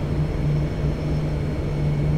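The turboprop propellers of a Dash Q400 in X-Plane 10 run with a steady, droning hum, the propeller levers set to 900 RPM; the loud engine tone stays constant throughout with no voices.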